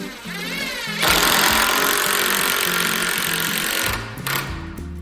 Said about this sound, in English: now we are tacking on the roof supports